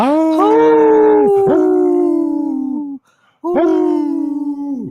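Wolves howl in long, mournful rising-and-falling calls, loud and close, with one sustained howl followed by a short pause and a second howl, with no talking.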